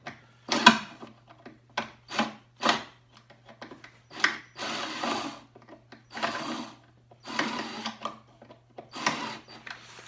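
A power drill with a bigger bit works into a Ski-Doo MX800 snowmobile side panel in short, repeated bursts, each a whirring grind with gaps between, close and fairly loud over a faint steady hum.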